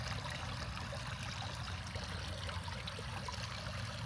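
Water runs steadily in a children's splash pit at a frog farm in Powell, Tennessee, a continuous outdoor trickle and splash with a low rumble underneath, with no talk.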